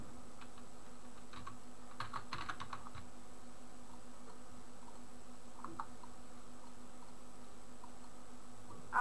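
A computer keyboard is typed on in short, irregular bursts of faint clicks over steady background hum, with a quiet pause between clusters and no talking.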